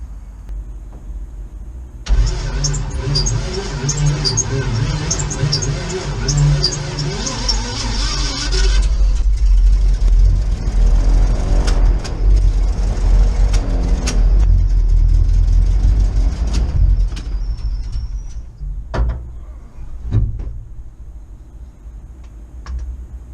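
A big block 454 Chevy airboat engine, not run in ten years, cranks and fires up, then runs loud and rough with revving surges before cutting out, followed by a few knocks.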